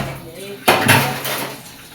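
Dishes, pots and cutlery being washed in a kitchen give one sharp clatter of clinking ware against a light background hiss, close and brief.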